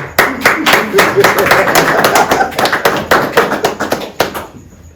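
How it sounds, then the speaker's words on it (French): A crowd claps in a steady burst of applause for a man named Monsieur Simon. The clapping is loud and close, carries on for several seconds, and a voice speaks over it before it dies away. "On acclame monsieur Simon."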